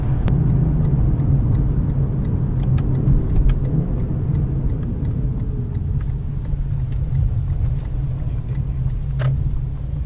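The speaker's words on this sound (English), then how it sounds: "when you get those shifts, and the naturally aspirated sound is like no other car" Inside a Lexus LC500 luxury coupe on the road, its naturally aspirated engine gives a steady, low, rumbling drone that fills the cabin, with no talking.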